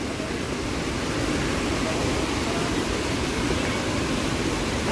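Floodwater rushes across the damaged Dhara Malwan road in a steady, loud, unbroken roar, with no pauses or distinct splashes.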